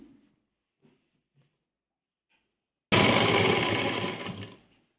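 After a few faint taps in near silence, a sewing machine starts up loud and close, stitching a dupatta in one steady run of about two seconds before slowing to a stop.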